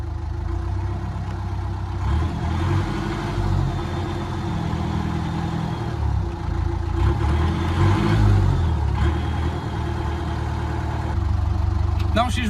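A narrowboat engine idles steadily nearby, a low rumbling drone with a gentle pulsing rhythm that runs the whole way through, with faint voices beneath it.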